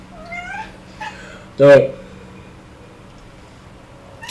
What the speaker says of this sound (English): if you can hear that, that's an animal that she keeps as a pet. It's my cat. It's a cat.